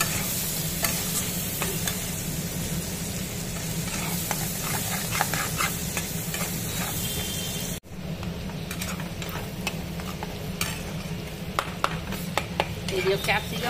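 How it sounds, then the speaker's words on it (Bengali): Chopped capsicum and potato fry in a pan while being stirred, a steady close sizzle broken by repeated scraping strokes of a spatula, with a brief pause partway through; a voice talks faintly at times. "এগুলো ভালো করে ওর সাথে নেড়ে নেবো।"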